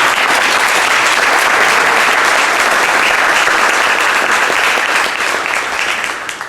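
An audience at a business talk gives a round of applause, a loud, dense wash of clapping from a full room that holds steady and then begins to fade near the finish.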